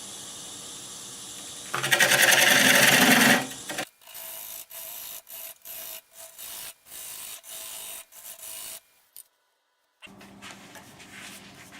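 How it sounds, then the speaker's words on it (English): A loud burst of 100-grit sandpaper rubbing against a natural-edge cherry wood bowl spinning on a lathe, followed by shorter on-off stretches of sanding with brief pauses between them. "I started sanding the outside with 100 grit"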